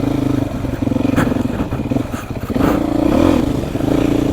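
A Beta motorcycle engine revs while being ridden, loud and close throughout. There are rising and falling throttle pulses, mechanical clatter, and a stronger surge near the end.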